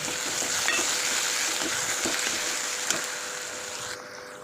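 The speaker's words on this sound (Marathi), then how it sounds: "थोडासा बटाटा कट करून स्वच्छ धुवून घातलेला आहे तो पण फ्राय करून घ्यायचा आहे" Washed, cut potato pieces frying in a pan, a steady close sizzle throughout with occasional light scrapes of a spatula, no talking.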